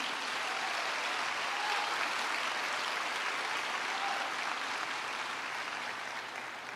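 Congregation at a live Portuguese-language church service clapping steadily, a broad, continuous roomful of applause holding at an even level before easing slightly at the close.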